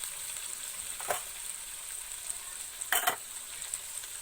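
Masala fries quietly in a pan with a faint, steady sizzle, broken by two brief scraping stirs of a spatula, one early and a stronger one near the end.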